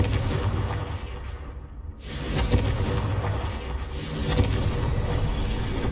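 Confringo blasting-spell explosions in the Hogwarts Legacy PC game, two loud booming blasts about two seconds apart, each followed by a heavy rumbling roar that fills the rest of the clip.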